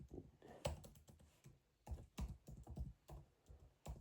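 Keys on a computer keyboard are typed at close range in irregular bursts of sharp clicks and taps, with short pauses between runs and faint room noise underneath.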